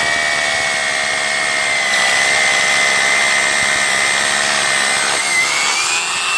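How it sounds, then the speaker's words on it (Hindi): A Bosch GBH 200 hammer drill boring into brick gives a loud, steady, high-pitched motor whine with a grinding hammering rasp underneath, running continuously close to the microphone and stopping abruptly at the end. "पहले ड्रिल करते हैं ईंट में।"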